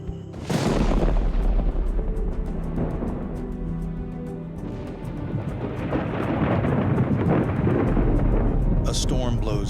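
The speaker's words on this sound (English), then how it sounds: "A storm blows in, complicating the patrol by masking the sound of anything moving through the forest." Thunderstorm rolling over Congo rainforest, a loud crack of thunder near the start followed by long rumbling, heavy rain and wind noise building again toward the end.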